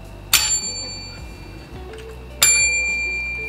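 Two bright bell dings ring out about two seconds apart over low background music, each a sharp metallic strike with a shimmering ringing decay, like a notification chime.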